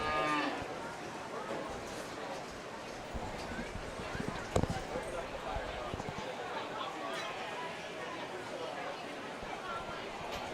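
Cattle, replacement heifers in a county fair livestock show ring, produce a steady busy barn din of shuffling hooves and movement, with a crowd murmuring and people talking throughout.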